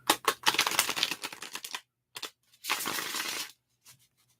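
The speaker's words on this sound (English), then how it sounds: "just wait there patiently while I shuffle the cards" Tarot cards being shuffled close up, bursts of rapid crisp riffling and flapping in two main runs with short taps between, quiet and with no talk.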